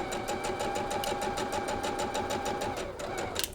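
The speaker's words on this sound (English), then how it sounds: "I'm going to take a couple stitches, 3 or 4, and I'm going to back stitch and then go straight" A domestic sewing machine runs steadily, stitching a few stitches then back stitching on a quilt top, with an even mechanical whir and rapid needle clatter throughout, close and fairly loud.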